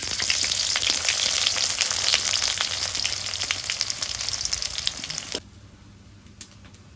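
Chopped onions and bay leaves sizzle loudly in hot oil in a pan for village-style mutton curry, a dense steady frying hiss that drops off abruptly near the end to a quiet background.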